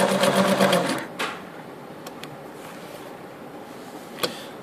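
A Singer sewing machine stitches fabric in a rapid, close mechanical chatter lasting about a second, followed by quieter clicks and a faint tap.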